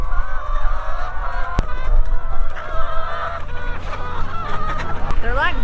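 A flock of laying hens clucks and squawks close by, a busy overlapping chorus of calls with a few sharp louder cries, with faint talking underneath.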